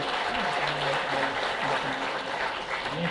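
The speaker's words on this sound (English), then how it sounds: "can we give a round of applause to Asia Speak 2019?" A conference audience gives a sustained round of applause that fills the space evenly, with a few voices calling out faintly beneath the clapping.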